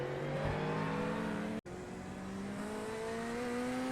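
Race car in a sim racing game at Long Beach, its engine note climbing steadily as it accelerates, with a brief sharp cut midway before the rising whine resumes.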